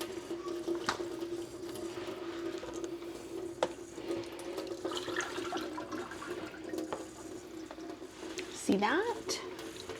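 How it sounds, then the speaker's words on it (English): Cured bacon gets rinsed under running tap water, a steady faint splash and gush of water with some clattering, while a person speaks briefly over it. "So we're just gonna rinse it off really good"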